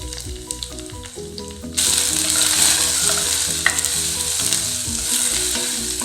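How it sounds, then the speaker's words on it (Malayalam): Crushed garlic, black pepper and cumin hit hot oil with curry leaves for a kollu rasam, bursting into a loud, steady sizzle that jumps up sharply and holds, over a soft music bed. "ഇതിലേക്ക് നമ്മൾ ചതച്ച് വെച്ച വെളുത്തുള്ളിയും കുരുമുളകും ജീരകവും കൂടി ഇട്ടു"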